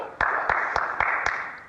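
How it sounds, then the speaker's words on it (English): A lone producer claps for an actress after a rehearsal breakdown in John Cassavetes' film Opening Night, giving about five evenly spaced, fairly loud claps with no other voices. "the producer applauds her for it"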